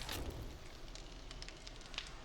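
Campfire burning in the survival game 7 Days to Die, a faint, steady crackle and hiss with scattered soft pops running continuously, no voices over it.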